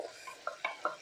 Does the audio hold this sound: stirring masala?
yes